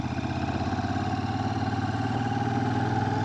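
A Royal Enfield Shotgun 650 twin-cylinder motorcycle engine thrums steadily while riding country lanes, a continuous pulsing drone at moderate level with no other sounds on top.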